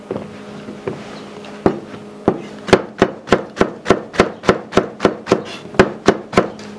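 A few scattered knife taps on a board, then a quick, steady run of chopping strokes through green pepper, close up and without any voices.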